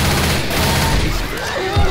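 Dense, continuous gunfire fills a frantic Left 4 Dead 2 fight, loud and close, with brief thumps and game noise running throughout.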